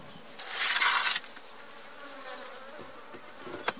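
Honey bees buzz around an opened hive during an inspection, a steady swarm hum that swells loudly close by for about a second, then settles into a fainter continuous drone.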